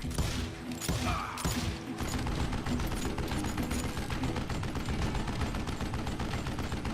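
Gunfire in the Western shooter game Call of Juarez: Gunslinger, a dense and continuous barrage of overlapping shots and mechanical clatter that stays loud for the whole stretch.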